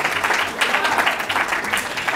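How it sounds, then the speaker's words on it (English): Audience applause for Xavier, a former school captain, at a school lecture, a close, dense, continuous round of clapping throughout. "give him a round of applause"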